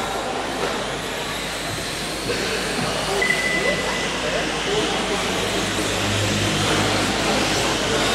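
Radio-controlled GT open-class cars race around a track at a Yokomo Grand Prix event, a dense, continuous whirring roar under an excited commentator's voice.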